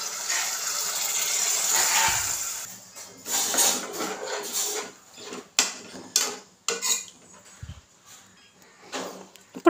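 A glass of water pours into mutton frying in a pan, a rushing splash and hiss at first, then dies down into intermittent clatters and scrapes of utensils.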